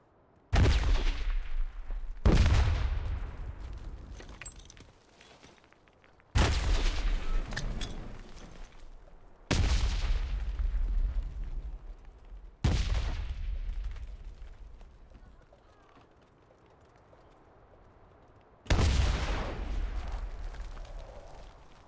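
Panzerschreck rockets and gunfire in a video game: six loud, booming blasts at irregular intervals, each with a hard attack and a long rumbling decay.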